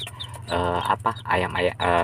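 Day-old baby chicks being raised without a mother hen, chirping and peeping high and close while someone talks over them throughout.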